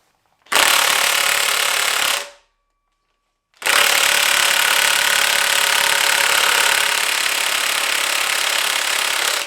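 A strong heat gun blows hot air onto a motor, a loud, close, steady roaring whoosh that runs for about two seconds, stops briefly, then starts again and holds to the end.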